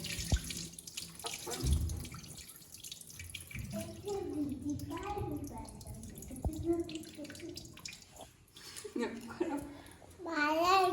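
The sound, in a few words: washing under running tap water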